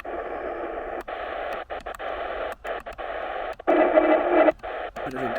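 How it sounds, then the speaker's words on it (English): Shortwave radio reception near 5975 kHz marred by interference: a hissy, fading signal repeatedly chopped by sharp dropouts and bursts, with a louder stretch of warbling noise toward the end. "Bit of interference there, I think."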